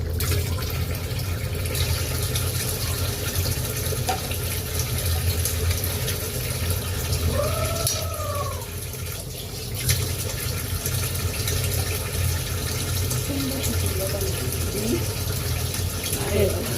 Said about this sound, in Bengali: কষানো শেষ, এখন পানি দেওয়া হবে।